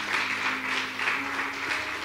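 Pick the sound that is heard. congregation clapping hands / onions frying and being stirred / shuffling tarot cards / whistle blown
congregation clapping hands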